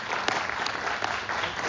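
A lecture audience at a University of Ottawa prize lecture claps together, a brief burst of full, even applause that holds steady throughout.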